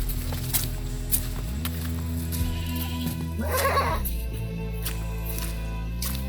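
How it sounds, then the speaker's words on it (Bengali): A goat gives one clear, wavering bleat in deep jungle near a hidden waterfall by Balasore, heard over a constant low roar of rushing water. "ছাগল আছে তুই বলছিস"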